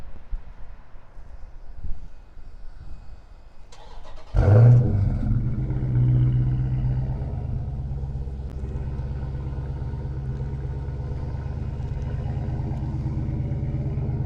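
A Dodge Scat Pack, started by remote start, fires up at about four seconds with a loud burst, then settles into a steady, deep, rumbling idle that carries on to the end.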